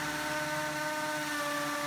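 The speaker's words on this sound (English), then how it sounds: "I can drill my next hole using my hammer drill." A hammer drill boring a hole into a bathroom wall for a vanity install, a steady whining motor drone with sustained tonal hum throughout, close and continuous with no voices.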